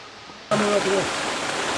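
A mountain valley stream near Baegunbong in Yangpyeong, a steady broadband rush of flowing water that starts abruptly and carries on, with a voice briefly over it.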